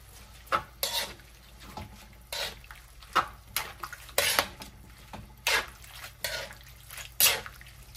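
Carrots and celery being stirred in a pan, with repeated clinks and scrapes of a utensil against metal in an irregular rhythm and wet sloshing in between, close up.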